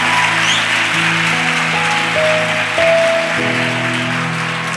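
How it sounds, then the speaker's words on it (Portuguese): Church congregation clapping in praise to Jesus, a dense, loud wash of applause layered over sustained keyboard or organ chords that shift in pitch beneath it. "Dá uma salva de palmas para Jesus agora"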